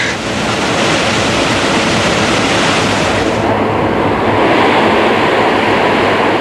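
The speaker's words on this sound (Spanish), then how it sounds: "El río Coatán, que con toda su fuerza ha estado azotando a esta región" The flooded Coatán river rushing through a storm-battered region, a loud, continuous torrent that roars steadily throughout with no voices.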